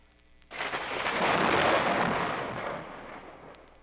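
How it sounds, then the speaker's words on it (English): A thunderclap sound effect from a vinyl record bursts in suddenly, then rolls as a broad, rumbling wash for about three seconds before fading, heard alone against faint surface hiss. "With the thunderclap, Cho-Chem vanishes."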